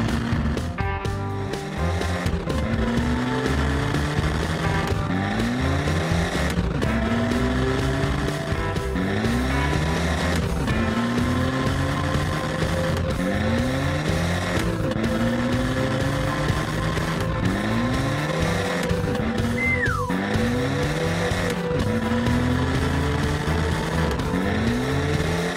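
Cartoon race cars, a pink one against green and orange ones, rev in repeated rising engine sweeps roughly every two seconds, loud and continuous over a steady background for the whole stretch.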